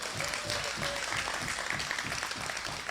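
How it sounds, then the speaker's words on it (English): An audience at a political party meeting claps for Olympians in a steady, dense round of applause that holds evenly from start to finish, with faint voices underneath. "I want us to give them a round of applause."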